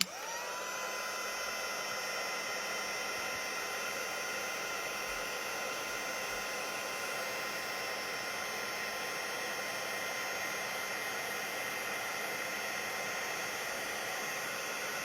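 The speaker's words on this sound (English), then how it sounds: "Come in with the heat gun, and excuse me, it's going to get a little loud" A steady, loud heat gun melting embossing powder hisses and whines continuously, an unbroken rushing tone with a high whine layered on top for the whole stretch.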